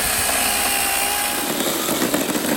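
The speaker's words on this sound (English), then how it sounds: "Getting some wood, collecting some wood for our fire tonight. Brought the old trustful chainsaw." Chainsaw cutting firewood for a campfire at a riverside caravan park, the engine holding a loud, steady high-pitched drone that roughens with chattering bursts as the chain bites into the wood.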